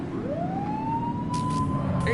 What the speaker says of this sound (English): Get on their tail and blip the siren.